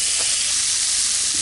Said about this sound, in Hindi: अब हम इसमें डाल देंगे ये चॉप्ड पालक जो हमने 1/4 रखा था